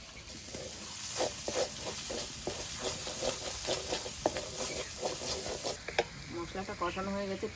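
Ground masala fries with salt and turmeric in oil for a handi biryani, a constant sizzle broken by steady rhythmic stirring scrapes and a few sharper clinks near the end.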